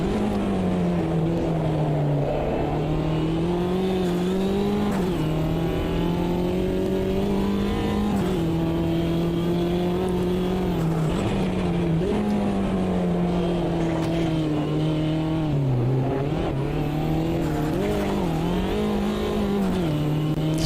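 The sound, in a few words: race car engine hitting rev limiter in video game Automobilista 2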